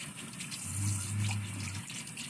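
Water runs from a tap as blood is washed off skin, giving a steady, soft rushing flow that swells slightly in the middle, heard close and alone.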